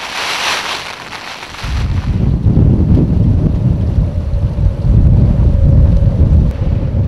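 Strong gale on an expedition coast with elephant seals nearby, loud roaring gusts buffeting the microphone and rising into a steady, heavy rumble after the first couple of seconds.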